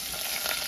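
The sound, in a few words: spices tempering in hot oil, spattering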